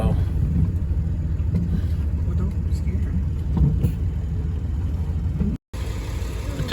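A vehicle rumbles steadily across a windy field on a farm, a constant low engine drone with wind buffeting throughout, briefly dropping out near the end.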